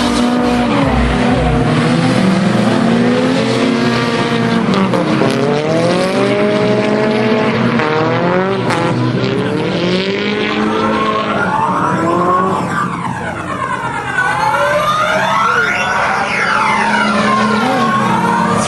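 Five Nissan drift cars run in a close train at Tailem Bend, their engines roaring loudly and continuously with rising and falling revs, overlapping exhaust notes and tire squeal as they slide through corners.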